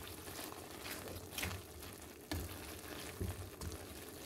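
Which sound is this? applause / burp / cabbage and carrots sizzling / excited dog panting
cabbage and carrots sizzling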